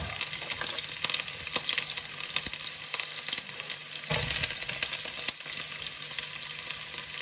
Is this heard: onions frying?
yes